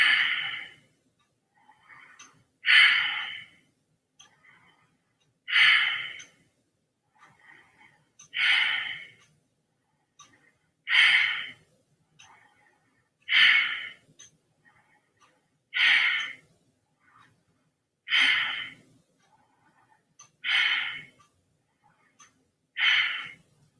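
Slow, deep breaths taken while holding a low squat, about ten evenly spaced breathy exhales several seconds apart, close and clear against near silence with no speech.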